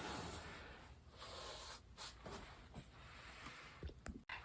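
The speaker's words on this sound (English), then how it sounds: "And now you can see that I have spray painted this barrel" Aerosol spray paint hisses in close, steady bursts as a rain barrel is coated section by section, with brief breaks between passes and a faint click near the end.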